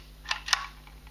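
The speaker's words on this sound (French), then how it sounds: "pour faire un espace, vous appuyez légèrement sur la poignée" Handle of an Artemio Click Click embossing label machine pressed to make a space, giving a couple of quick soft plastic clicks up close, faint and brief.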